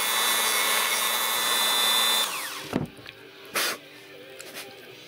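A Dremel rotary tool grinds a VW key, giving a steady high whine for about two seconds before it cuts out, followed by a few short scraping bursts.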